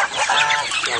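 A healthy rooster with Brahma feathers clucks close and loud in a yard, a short burst of throaty calls with no talk.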